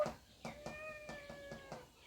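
A cat meows repeatedly, about five short, faint mews in quick, fairly even succession, with no talk over them.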